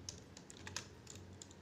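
Rapid, uneven keystrokes on a computer keyboard as Unity C# code is typed, a close, steady patter of soft clicks with a low hum beneath and no voice.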